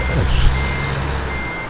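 A truck in American Truck Simulator backs up with its steady reversing beeper sounding loud and close. A low diesel engine rumble runs beneath it, and a brief air-brake hiss is heard early on.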